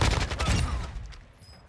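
Gunfire in the video game Warzone 2.0 on Ashika Island, likely from an ISO Hemlock rifle: a quick, loud burst of rapid shots that fades out within about a second, with no talking.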